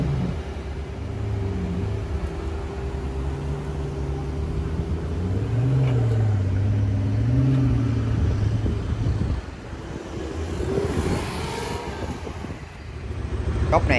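A Pagani Huayra supercar rumbles along a city street with a low, steady engine drone and rising, falling tones, heard from nearby under wind buffeting on the microphone and occasional muffled voices.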